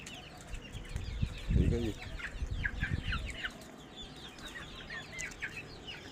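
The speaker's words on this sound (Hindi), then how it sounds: "ये मुर्गी अपने बच्चों को खिला रही है" A hen feeds her chicks in a backyard flock kept with a single rooster, making repeated soft clucks amid scattered high chirps, while someone briefly speaks nearby.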